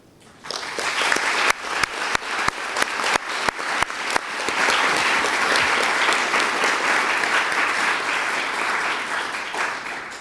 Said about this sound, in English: I invite the audience to give these employees a round of applause.